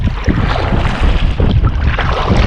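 Strong gusty wind buffets the microphone while kayaking on Bala Lake, a loud continuous low roar with uneven pulses and faint water sloshing beneath, no voices.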